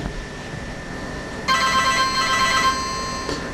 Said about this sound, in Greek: εγώ θα καλέσω το κινητό που είναι μέσα,